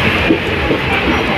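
Loud, steady rumble inside a passenger train carriage travelling from Siwan toward Kolkata, with a continuous roar and faint rhythmic clatter of the wheels on the track, no voices.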